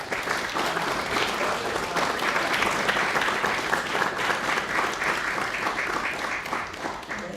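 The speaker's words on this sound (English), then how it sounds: "So let's give them a big round of applause." Steady audience applause fills a room at a White House event honoring Wilson Scholars, many hands clapping at a dense, even level with no voices over it.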